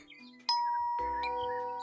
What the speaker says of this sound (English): I'd better use the doorbell instead of knocking.